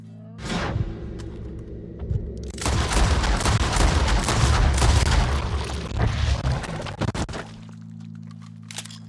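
A burst of Red Dead Redemption 2 gunfire, a short sharp shot followed by a loud, dense fusillade of cracks and booms lasting several seconds before fading back to a low steady hum.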